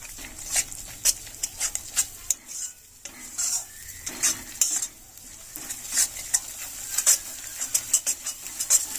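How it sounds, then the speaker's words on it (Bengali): Eggs are stirred in a cooking pan with a utensil, giving irregular, close metallic scrapes and clinks over a light sizzle, in bursts with brief pauses. "দুটো ডিম দিয়ে দিচ্ছি। ডিমটা ভালোভাবে নাড়িয়ে নেব।"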